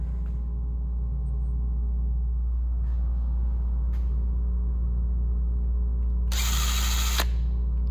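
Power drill boring holes to mount a Wickerbill on a vehicle, a low steady hum under a constant background with a short, loud, high whine near the end.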